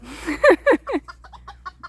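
Chickens give a quick run of close, fairly soft clucks near a small young rooster on a farm: a few louder throaty calls, then a rapid series of short clucks, with no talking.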